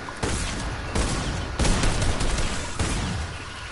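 Gunfire in a multiplayer shooter video game: loud, dense bursts of rapid shots in several separate volleys, sharp and close, with no talk over them.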